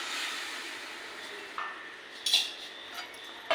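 A spoon clinks and scrapes against a pan while peas are stirred into paneer masala, a few sharp metallic taps over a soft steady background hiss.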